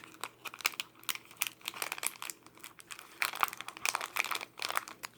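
The foil wrapper of a Super Mario chocolate Easter egg crinkles and tears up close, a busy run of crisp crackles, rustles and small rips from start to finish with no talking.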